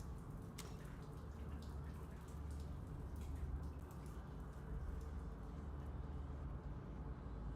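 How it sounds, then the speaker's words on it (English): A water dispenser running in the survival game Dune: Awakening, a steady faint trickle and drip of flowing water continuing evenly throughout, with no talk. "Just the water dispenser."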